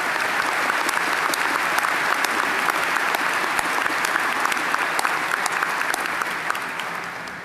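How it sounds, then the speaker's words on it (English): A commencement audience at a Towson University spring graduation ceremony gives a steady, sustained round of applause. Many hands clap together at even loudness throughout, filling the hall with no speech over it. "Please join me in a round of applause to show our appreciation."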